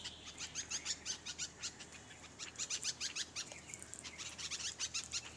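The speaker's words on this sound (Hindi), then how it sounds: "ये देखे चिड़िया की कितनी प्यारी आवाज है" A small bird on a university campus in Quetta, Pakistan sings a series of quick, high chirping phrases in bursts, fairly close, over a quiet background.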